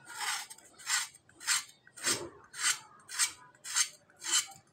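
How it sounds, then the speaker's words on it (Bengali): Rhythmic rasping scrapes as skin is peeled from washed pointed gourds for dolma, eight even strokes about every half second, close and alone with no talk. "ধুয়ে নিয়ে আমি এবার এর গায়ের খোসাটা ছাড়িয়ে নেব।"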